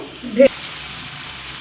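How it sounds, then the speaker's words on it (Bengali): Elephant foot yam pieces fry in a pan of hot oil with a little turmeric, giving a steady close hiss of sizzling with one brief louder stir or clatter near the start. "দেখুন ওল আমি ভেজে নিয়েছি কিন্তু খুব কিন্তু কড়া করে ভাজবো না"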